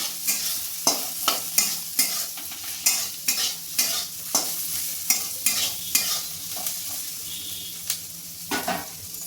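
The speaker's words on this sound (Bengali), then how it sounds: "গোলমরিচ গুঁড়ো আর নুনটা দিয়ে আমি একটু ভালো করে নেড়ে চেড়ে নেব।" Chili potatoes fry in a pan as pepper and salt are stirred in, with repeated scraping strokes of a spatula over a soft background sizzle, close and alone, the strokes coming in an irregular rhythm.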